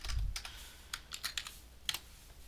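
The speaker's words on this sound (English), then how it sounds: "Damn, I can't type." Fingers tap on a computer keyboard in a short, irregular run of quiet clicks, close and faint, with no voice.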